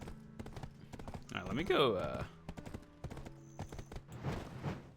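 Hooves clip-clop steadily from a horse in a video game, with a whinny-like burst partway through, while a player talks over the sound.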